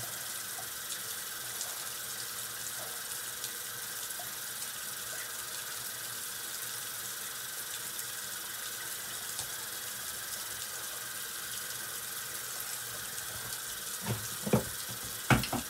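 Tap water runs steadily into a sink as a bathroom rinse after a shave, a constant hiss and splash throughout, with a few louder splashes near the end.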